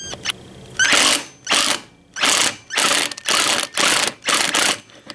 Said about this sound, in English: we're going to take the 14mm socket, place it right on that nut, and then we're going to back it right out with minimal effort